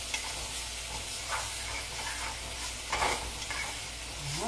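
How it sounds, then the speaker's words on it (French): Chopped onion stirred in a pan for chicken and broccoli divan, a quiet steady sizzle with a few soft scraping sweeps of a spoon, faint and close, no voices. "Donc, mon oignon est ici. Je vais le mélanger ici."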